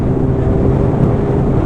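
A motorcycle engine drones steadily at close range while the rider lets out the clutch and rolls back on the throttle into second gear, a continuous low hum mixed with wind rush and no clear rev changes.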